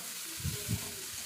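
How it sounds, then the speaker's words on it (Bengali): Soft, steady sizzling from potatoes and tomato frying in a pan, with two dull knocks of stirring near the middle. Quiet and close, with no voices. "ভালো করে টমেটোটাকে আলুর সঙ্গে একটু ভাজা ভাজা মতো করে নিতে হবে"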